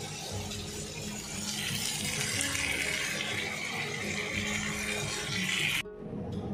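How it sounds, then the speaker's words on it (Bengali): Spices hit hot oil for a tempering in sago khichdi, giving a loud, steady broadband sizzle that hisses throughout and then cuts off abruptly near the end. "এবার ফোড়নটা দিয়ে নিই।"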